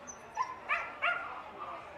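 Bloodhound at a championship dog show, giving a few short yelping barks and whimpers in quick succession, moderately close over a busy hall background.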